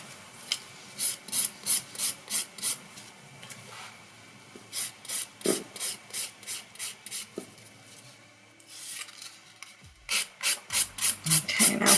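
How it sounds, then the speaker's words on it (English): A nail file rasps across a fingernail in quick rhythmic bursts of short strokes, close and fairly quiet, with brief pauses between sets of strokes and no talking. "now filing up and over to the centre of the nail"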